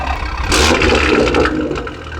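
A BMW M340i fitted with a big turbo roars and revs close by, a rough, throaty rumble that swells briefly before settling back to a steady drone.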